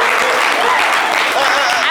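A studio audience breaks into a short burst of steady applause, with voices talking over the clapping.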